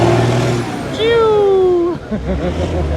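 A bus at a terminal in Palembang lets out a loud air brake sound with a sharp, high whistling tone that slides slowly downward, then a rumbling engine idles close by, with voices and traffic noise around it.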